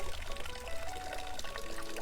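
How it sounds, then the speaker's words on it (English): Water pours and splashes steadily close by from a temple hand-washing fountain in Osaka, Japan, a continuous trickling stream with no voices. "Deer fountain."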